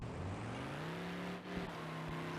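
A car driven in the video game BeamNG.drive, its engine giving a steady droning tone that rises gradually in pitch as it accelerates, with a brief thud partway through and no talk over it.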